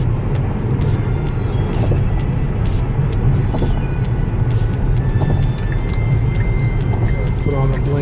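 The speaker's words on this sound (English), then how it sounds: "I'm going to accelerate a little bit to get past it." Inside a Tesla accelerating on a highway to pass another car: a steady, loud roar of road and tire noise that fills the whole stretch, with faint tones rising toward the end.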